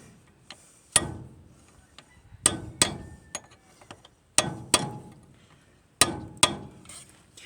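Hammer knocking a front hub onto an old spindle on a 1947 Dodge Power Wagon: sharp metallic blows in pairs, about seven strikes spread over several seconds, close and ringing, with no talking.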